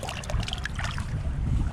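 Shallow inner-city creek water being stirred up by hand, a faint close sloshing and trickling with scattered splashes over low rumbling wind noise on the microphone.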